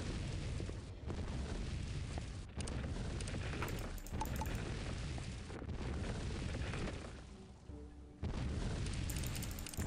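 Heavy booming blasts of fire shot at the player in Lands of Lore 3 arrive in repeated loud bursts, with rumbling roars between them and short gaps of near quiet.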